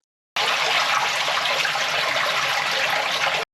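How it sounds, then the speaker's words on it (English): A disabled toilet flushes in a building whose drains are backing up into a flooded courtyard, a loud steady rush of water starting abruptly and running about three seconds before cutting off, with no one talking. "someone decided to flush the disabled toilet"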